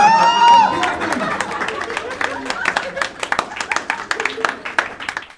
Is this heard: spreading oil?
no